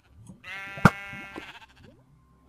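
A Minecraft sheep gives one drawn-out nasal bleat, fairly close, cut by a sharp thud partway through, then a quiet pause ending in another knock.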